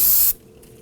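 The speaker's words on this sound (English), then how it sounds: "Spray it down with some spray solvent." A short hissing burst from an aerosol can of solvent sprayed on a 2008-2011 Ford Focus rear brake fitting, about a third of a second, then it cuts off into quiet.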